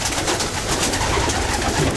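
A male racing pigeon coos softly and repeatedly, close by, over a dense, noisy background of other birds in a loft.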